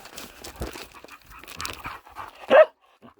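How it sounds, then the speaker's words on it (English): Several dogs in rough, teeth-gnashing play, with quick breathy panting and scuffling throughout, close up, and a louder snap or yelp near the end before a short quiet. "Crazy dogs."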